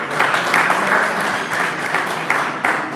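Sustained audience applause at an evening election session of a convention, a dense, fairly loud wash of many hands clapping continuously with slight swells, no speech on top.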